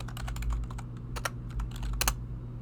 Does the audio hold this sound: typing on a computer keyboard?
yes